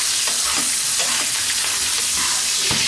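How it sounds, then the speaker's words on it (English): A grouper fillet sears loudly in a hot pan, a dense steady sizzle broken by repeated spoon strokes as butter and herb oil are basted over it, close and continuous with no talking. "We're going to baste it with the butter,"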